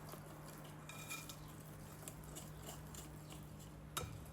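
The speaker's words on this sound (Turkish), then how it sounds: "Yine tel çırpıcımla şöyle güzelce karıştırıyorum" A wire whisk stirs cake batter of flour and baking powder in a bowl, with quiet, fairly steady scraping and ticking against the bowl and one sharper clink near the end, alone without talk.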